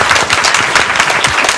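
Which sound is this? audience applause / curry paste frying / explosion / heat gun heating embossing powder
audience applause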